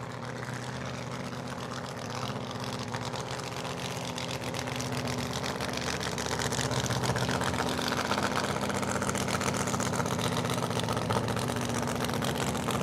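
A drag racing car's engine at Cordova Dragway drones loudly and steadily at a distance, holding an even rumbling roar with no speech over it.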